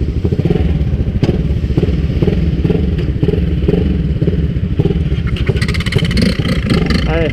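A modified Honda XRE 300 motorcycle engine runs loud and close with a steady rumbling idle and rough revving, building as the bike pulls away; voices talk over it.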